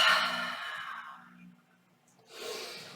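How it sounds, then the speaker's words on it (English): An exhale through the mouth during a yoga flow, a soft airy sigh-like breath that fades out, followed by another breath sound near the end; no talking. "And exhale through the mouth."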